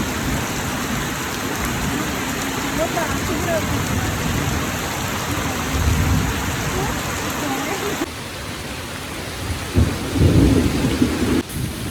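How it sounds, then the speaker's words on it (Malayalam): Heavy rain pours steadily with rolling thunder at an eco-tourism forest spot on a river in Konni, a steady dense hiss with deeper rumbles swelling near the end. "അപ്പം മഴയൊക്കെ തോന്നുന്നു"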